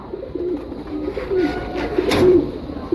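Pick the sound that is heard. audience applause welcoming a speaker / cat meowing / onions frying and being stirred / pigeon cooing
pigeon cooing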